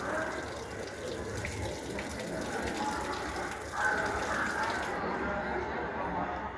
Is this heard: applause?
no